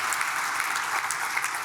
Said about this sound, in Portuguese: Eu quero que vocês deem uma salva de palmas para esses nossos patrocinadores.